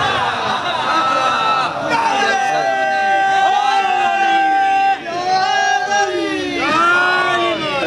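Large crowd at a religious majlis gathering loudly chanting a devotional slogan in unison, voices rising and falling in rhythmic waves, dense and close.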